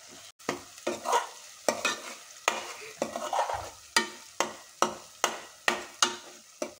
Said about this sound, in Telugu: ఇప్పుడు నేను పసుపు వేస్తున్నాను అండ్ మిక్స్ ఇలా సైడ్ పట్టుకొని